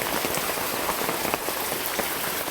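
Dense, continuous hiss of heavy rain pouring onto surfaces nearby in a Bengali village beside a pond, with scattered distinct drop taps throughout, loud and unbroken.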